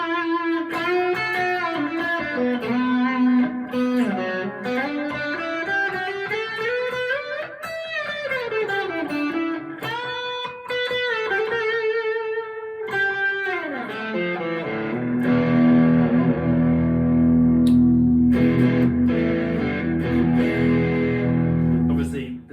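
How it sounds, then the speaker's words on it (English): An electric guitar, a PRS SE Swamp Ash, plays through a NUX analog delay pedal with sweeping bends and slides, the repeats trailing each phrase, and ends in sustained ringing chords. "And let's also put on the NUX analog delay"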